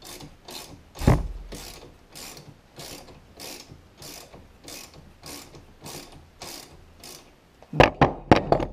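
A ratchet wrench clicks in a steady rhythmic series while loosening a bolt on a Kawasaki KX450F dirt bike for an oil change, ending in a few sharper, louder turns.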